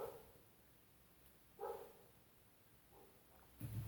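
A dog barks a few times at a distance, short separate woofs spaced out over a quiet background.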